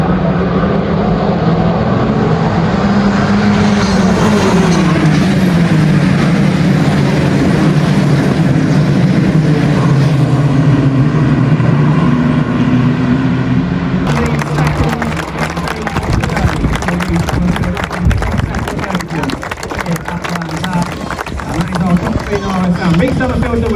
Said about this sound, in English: I'm just going to watch this Formula Ford go through here